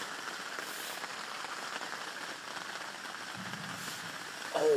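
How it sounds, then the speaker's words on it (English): Heavy rain pours onto a fishing bivvy, a dense, steady patter drumming on the shelter fabric close by, fairly quiet and even, with a brief louder knock near the end. "Chucking it down the rain."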